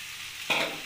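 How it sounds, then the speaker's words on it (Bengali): Fried egg being stirred into a spiced chickpea curry in a pan, heard as a short scrape and sizzle that rises suddenly halfway through, close and fairly soft over a quiet frying hiss. "ডিমটা দিয়ে একটু ভালো করে নাড়িয়ে চাড়িয়ে নেব আমি"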